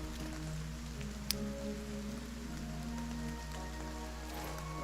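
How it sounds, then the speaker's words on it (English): Rain falls steadily in the video game Shores Unknown, a dense continuous patter with puddles on the ground, joined by a low constant hum and soft tonal ambience, with one brief sharp click partway through. "some really nice rain effects over here, like puddles on the ground"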